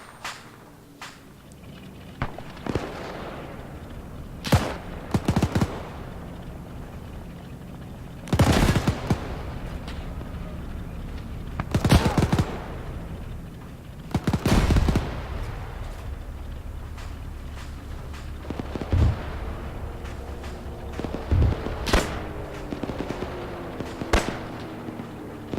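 Infantry gunfire in the Arma 3 video game near a runway: sharp, loud shots and bursts crack out at irregular intervals over a steady background rumble, some close and some more distant.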